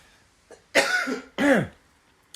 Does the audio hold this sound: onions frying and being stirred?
no